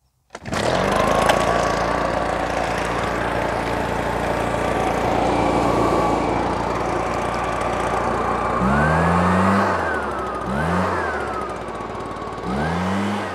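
A Stihl BR420 backpack blower engine runs loud and steady at high idle throughout, a continuous close drone with a few brief throttle dips and swells near the end.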